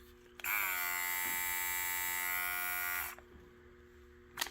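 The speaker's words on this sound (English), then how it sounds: "use this, which is the nose and ear trimmer" A Philips Norelco Multigroom 7000 nose and ear trimmer switches on with a sharp start, buzzes at a steady high pitch for about two and a half seconds close up, then cuts off, leaving a faint hum and a small click.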